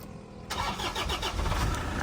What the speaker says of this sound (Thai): อ่าเดี๋ยวมาสตาร์ท แล้วก็ฟังเสียงเครื่องกันนะครับ